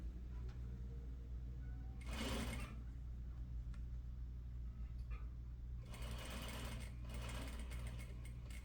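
A sewing machine backstitches along the edge of a Peter Pan collar piece, giving two brief, faint bursts of whirring stitching over a steady low motor hum, with no voices.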